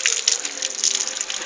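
Water gushes and splashes in close, uneven pulses as it is poured over someone during a bath, loud and near with no voices.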